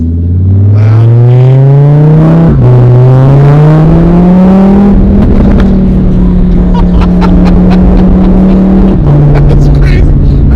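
A modified Audi R8's engine revs loudly and deeply, rising in pitch in long sustained pulls with brief drops between, close and dominant throughout, with faint pops near the end.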